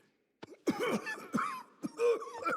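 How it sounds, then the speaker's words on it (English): A series of several short, dry coughs, fairly close and separated by brief pauses. "This cough. I'm worried."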